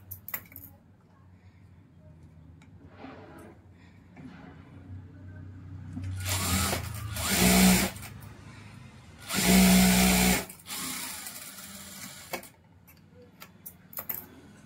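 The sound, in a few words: sewing machine stitching lining onto cotton blouse piece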